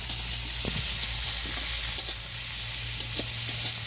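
Ground ginger-garlic paste fries in a pan with small fish, a continuous bright sizzle broken by a few soft stirring scrapes, close and even throughout, with nobody talking.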